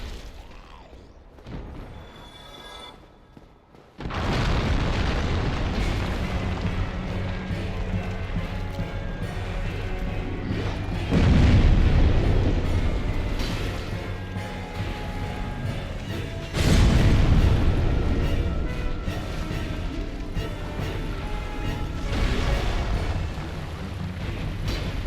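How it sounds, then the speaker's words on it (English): Giant explosions from a boss in Dark Souls, loud booming blasts with a deep rumble that swell into sustained roaring crashes, with two heavier surges partway through, after a quieter opening. "I get nervous about those giant explosions that he does."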